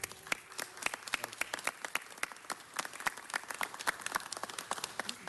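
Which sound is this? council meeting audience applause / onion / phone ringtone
council meeting audience applause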